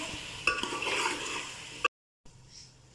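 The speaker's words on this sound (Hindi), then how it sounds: "तो अब इसको थोड़ी देर पकाते हैं पालक के अंदर गोश्त को" Chicken with spinach cooking in a pot, a soft sizzle under a few stirring scrapes and clinks, close and fairly quiet, cut off briefly by silence before a faint simmer resumes.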